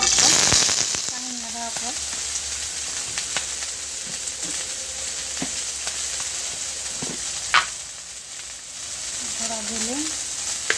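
Chili powder and coriander powder frying with tomato in a pan for a Santali-style katkom dish, a steady close sizzle with scattered crackling pops while a voice talks now and then.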